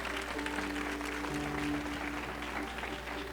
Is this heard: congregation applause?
yes